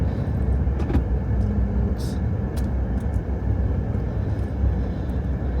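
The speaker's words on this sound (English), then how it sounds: "here comes one now. So hauling a trailer, big wide trailer." A passing vehicle hauling a big wide trailer on a road through Alberta's foothills gives a steady, loud low rumble of engine and tires close by, with no talking.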